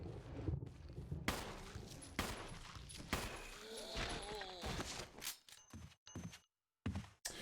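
Sharp gunshots fire at zombies in the Resident Evil Remake, with a few separate cracks spaced about a second apart among footsteps and other in-game noises.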